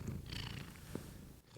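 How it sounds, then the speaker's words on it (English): A cat purring close up, a soft steady low rumble that runs continuously with slight rhythmic swells, heard alone without talk. "I think you can hear her purring"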